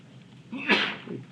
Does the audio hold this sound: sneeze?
yes